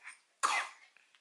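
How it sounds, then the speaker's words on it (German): A single sharp, close cough bursts out after a short quiet moment, with a faint breathy tail and soft rustles after it. "dass du hier wieder anfängst, so dolle zu husten"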